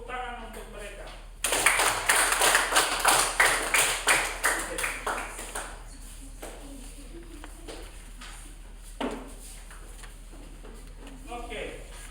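Classroom group claps for a presenting team in a teacher-training session, a burst of dense hand claps starting abruptly, then thinning into scattered individual claps that fade out with light murmuring.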